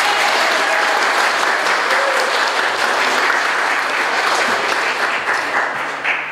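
A room full of people gives a long, steady round of applause for the catering ladies at a garden prize event, dense hand clapping holding loud throughout with a slight fade at the close.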